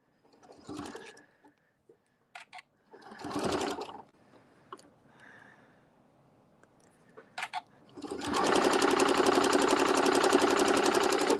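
A home sewing machine runs steadily for several seconds while stitching a quilted holiday wreath, loud and close. A few brief bursts of talk and small handling clicks come before it starts.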